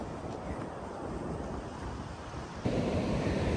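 Sea waves wash onto a beach in a steady low surf roar mixed with wind buffeting the microphone, swelling louder near the end.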